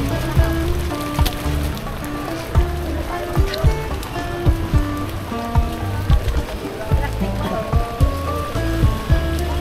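Rain patters steadily on surfaces at Divisoria market, a busy outdoor shopping area, with scattered louder drips and clatters over a constant wash, under background voices.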